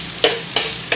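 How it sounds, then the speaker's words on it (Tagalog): Ginger dropped into hot oil in a frying pan, giving a steady broadband sizzle with three brief louder bursts as pieces hit the oil or are stirred, close and fairly loud with no talking. "Painit tayo ng mantika sa kawali tapos pag mainit na ilagay natin itong luya."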